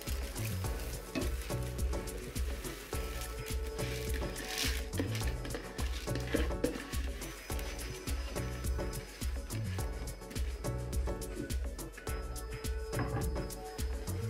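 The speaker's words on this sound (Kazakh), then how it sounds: "Енді келесі кезекте біз күрішімізді осы қуырылған ет, сәбіз, пиязымыздың үстіне саламыз." Fried meat, carrots and onions in a pot, with water just poured in and rice added on top, give a steady close bubbling sizzle with rhythmic stirring and scraping under a continuous frying hiss.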